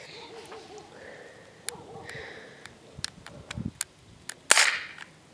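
A Smith & Wesson M&P 40 airsoft pistol fires outdoors near a fence, giving several sharp, snappy pops at irregular intervals, with a louder crack near the end followed by a brief hiss and faint background murmur.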